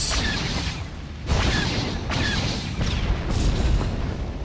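Torpedo explosions in Star Wars: The Old Republic space combat: heavy booming blasts that arrive in several rolling bursts, with deep rumble and crackling debris between impacts.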